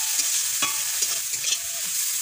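Greens with dried fish stir-fried together in a pan: a continuous close sizzle with a few quick scraping stirs, no voices.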